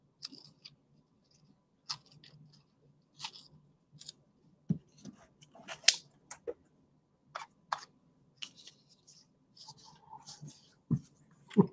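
Scissors snip through a paper figure in short, quiet bursts of crisp cuts separated by pauses, close and alone in a hushed room.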